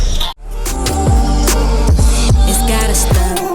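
A song, the opening track of an album, plays as a full, loud mix with steady bass and rhythmic beats after a brief dropout near the start, no talk over it.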